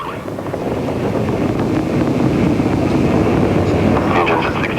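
Roar of a space launch: continuous broadband rumble from rocket engines building and holding steady throughout, with crowd noise and wind buffeting mixed in.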